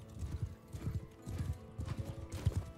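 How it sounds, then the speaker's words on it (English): Horse hooves clip-clopping in a Viking campaign video game, a steady near rhythmic trot of hoofbeats in repeated clusters, moderately loud with no talk over them. "Let's see how Helga can handle a horse."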